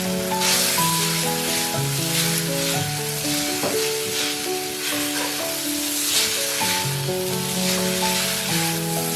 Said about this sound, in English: Add it to the skillet with a little more oil and gently toss it over medium-high heat.